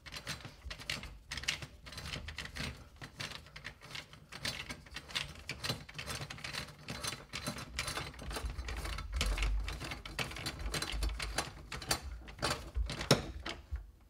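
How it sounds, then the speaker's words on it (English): Screws on a bathtub drain flange with a rubber seal are tightened, producing quick, steady ratcheting clicks close by. The tool ticks repeatedly at an even rhythm throughout. "And finish off with tightening these down."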